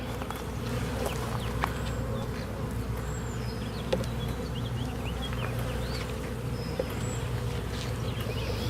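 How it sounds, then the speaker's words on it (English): Honey bees buzz in a steady, dense drone at an open hive while the queen's shipping box is being removed, agitated and close, with occasional faint bird chirps far off. "These bees are getting a bit pissed."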